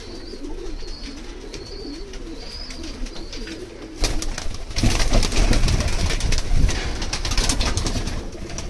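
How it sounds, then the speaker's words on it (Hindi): Pigeons, including golden pigeons, coo repeatedly in soft, throaty phrases nearby at a pigeon sale in Kathua, Jammu, then a burst of flapping and rustling noise takes over the second half. "देखो भैया कबूतर"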